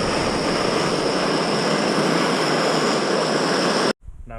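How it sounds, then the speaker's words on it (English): A gas torch burns excess oil off the brake pads of a 2001 Evo 250 two-stroke enduro dirt bike, a loud, steady roaring hiss that holds for about four seconds and then cuts off abruptly. "now I'm burning all the excess oil off."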